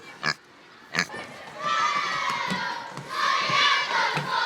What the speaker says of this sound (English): We've had the pigs for over a year now